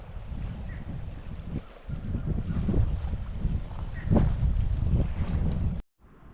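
Wind buffeting outdoors at a campsite in the American Southwest, a low steady rumble with gusts swelling louder, close to the microphone, cutting off abruptly near the end.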